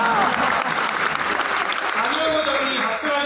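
Studio audience at a Pakistani comedy talk show claps in a steady, dense burst of applause that fills the whole stretch, with voices mixed in.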